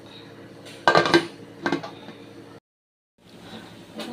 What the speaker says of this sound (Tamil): நம்ம குக்கரை க்ளோஸ் பண்ணிடலாம்